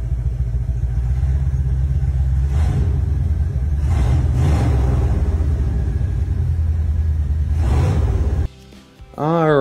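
A 1979 Dodge Ramcharger project truck's engine runs loud and close with a heavy rumbling idle and several revs, then cuts off abruptly near the end, leaving a brief quieter tail with a short voice-like sound.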